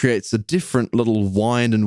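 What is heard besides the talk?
No distinct noise like a dog, phone or traffic.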